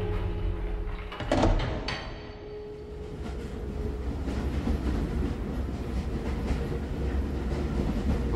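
A train in the video game Close to the Sun pulls away with a clunk and a burst of noise, then settles into a steady rumbling, clattering run that continues to the end.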